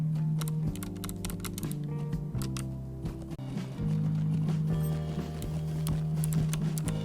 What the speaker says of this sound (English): start trampling them with my horse